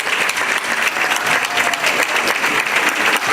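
An audience claps steadily and densely throughout an awards event honoring Rochester Black men, a full, sustained round of applause with no voices rising above it.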